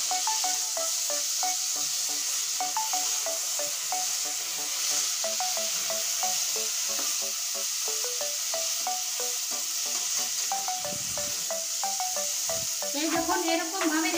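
Baim fish (eel) frying whole in a pan for a papaya-potato curry, with a steady loud sizzle and hiss throughout and brief clinks of a spatula as the fish is turned near the end.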